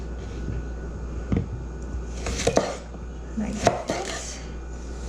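Knife dicing two small cucumbers on a board, a handful of distinct close chops under a steady low hum, with a brief spoken phrase near the end.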